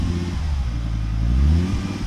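Lancia Delta 20-valve turbo engine fitted in a Fiat Coupe, running close up with a deep, throaty rumble and a short rev that rises and falls. The car is smoky and has a noisy alternator bearing.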